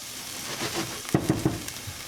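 Butter and onion hit a hot pan with a soft sizzle, then three quick, close clatters follow as the onion drops in and gets moved around.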